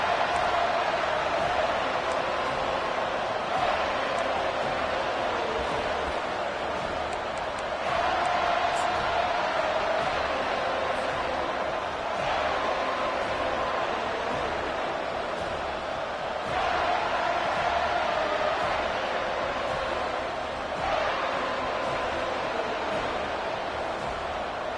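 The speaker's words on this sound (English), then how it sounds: "This crowd trying to show them what it's going to be like all day in this house" Football stadium crowd at a Jacksonville State versus Florida State game, a broad continuous roar of cheering that swells and dips in waves, with a commentator talking over it.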